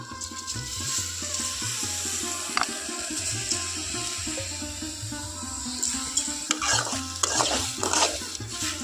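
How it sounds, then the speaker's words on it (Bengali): Freshly washed sesame seeds dry-roast in a wok with no oil or water, stirred continuously, giving a close, steady scraping and rattling sizzle that grows busier toward the end. "এই কড়াইয়ের মধ্যে ধুয়ে রাখা এই তিলগুলো আমি এখন দিয়ে দেবো"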